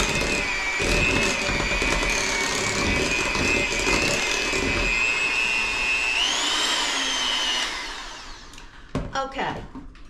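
An electric mixer creams soft ingredients for a carrot cake, a loud steady whirring drone that rises in pitch briefly before cutting off near the end, followed by a few faint clicks.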